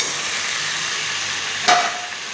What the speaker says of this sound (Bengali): দিয়ে আবার আমি একটু ভালো করে কষিয়ে নিচ্ছি